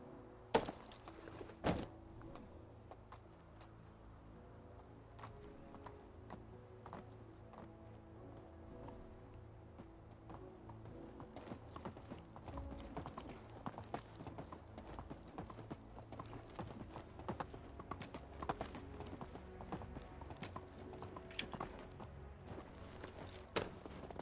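Donkey hooves clip-clop steadily in Medieval Dynasty, a medieval village game, a rhythmic run of hoof knocks under a constant low ambient hum, moderately close.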